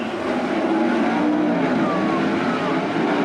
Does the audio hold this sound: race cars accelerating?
yes